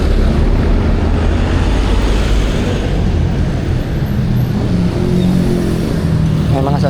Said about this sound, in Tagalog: May mga sasakyan padadaan.